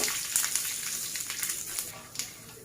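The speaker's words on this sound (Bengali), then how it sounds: "তেলের মধ্যে দিয়ে একটু নাড়াচাড়া দিতে হবে।" Spices fry in hot oil for a brinjal chaat, a faint, continuous crackling sizzle with light stirring scrapes rising and falling over a few seconds.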